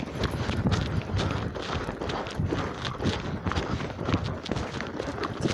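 A horse's hooves thud on an arena surface in an irregular, close stream of footfalls, with light wind noise behind.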